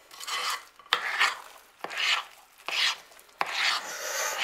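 Apple custard walnut muffin batter is folded in a bowl with a spatula, giving soft scraping rubs in four or five close, rhythmic strokes, each opening with a small clack against the bowl.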